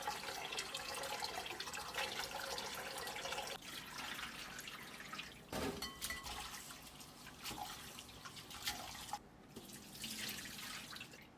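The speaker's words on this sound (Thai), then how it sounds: "แล้วก็ผมจะล้างสาหร่ายวากาเมะครับ" Wakame seaweed washed under a running kitchen tap, with water splashing and trickling continuously and irregular sloshes and drips as the seaweed is handled, close and moderately loud.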